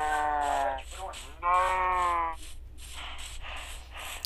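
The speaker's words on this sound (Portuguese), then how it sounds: "Eu acho que era pra ter vaca. Tá, as vacas estão lá em cima." Cows mooing in the Minecraft video game, two long drawn-out moos close together followed by fainter bleat-like animal calls, loud and clear over a low background hum.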